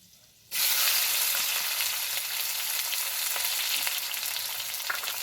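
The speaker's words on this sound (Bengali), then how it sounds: "পেঁয়াজটাকে আগে খুব ভালোভাবে ভেজে নিতে হবে" Chopped onion dropped into hot oil with whole garam masala for biryani, bursting into a loud, steady sizzle after a brief quiet start, with faint stirring clicks.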